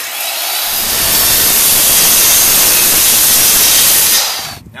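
A power saw makes one continuous straight cut through 1/4-inch plywood, a loud, steady broadband whine that starts abruptly, holds for about four seconds, then cuts off as the blade exits.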